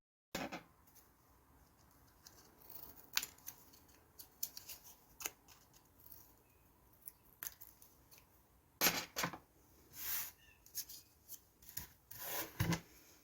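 Scissors snipping off thread or cord ends on a handmade boho bead embellishment, a few faint, sharp cuts spaced apart with soft rubbing and handling noises between them.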